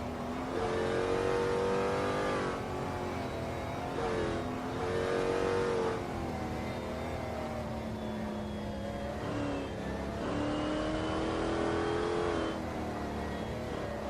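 A race car engine roars through the Le Mans circuit in a racing video game, a loud, close, steady drone whose pitch rises and falls with upshifts and throttle changes, with no voices.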